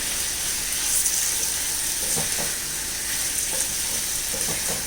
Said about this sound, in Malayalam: നമുക്കൊന്ന് ഉള്ളി ഇളക്കി കൊടുക്കാം.